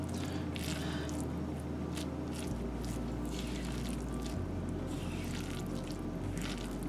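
Rice stirred in a pot with melting butter during rice pilaf cooking, a continuous soft squishing and scraping with faint sizzle, close and steady, without talk.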